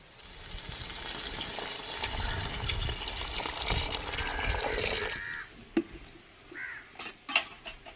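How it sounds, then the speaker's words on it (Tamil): Water is poured into a cooking pot for chickpea biryani, a continuous splashing gush lasting several seconds before it stops, followed by a few small clinks and knocks. "இதோட இப்போ நம்ம அளவு தண்ணி சேர்த்துக்கிறோங்க"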